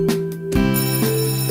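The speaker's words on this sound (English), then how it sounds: "the bell is already ringing" A bell rings in a school in a dating sim video game, giving a sustained electronic tone that restarts several times over a short, loud span, with a tinny ringtone quality.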